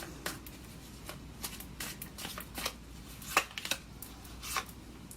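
Tarot cards shuffled close up in a quiet room, a run of crisp papery riffles and slaps with sharper card snaps near the end, no talking.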